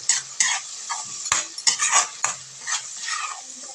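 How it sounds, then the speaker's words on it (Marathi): Ground masala paste fried in oil with garlic and curry leaves, stirred with a spoon scraping the pan in irregular close clinks and scrapes over a soft sizzle. "छान असं तेलात आपण दोन मिनटं परतून घेऊया"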